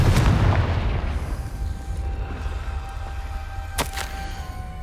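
A Confringo spell explosion in the Hogwarts Legacy video game, a loud booming burst that rolls into a long fading rumble, with a couple of brief crackling impacts near the end.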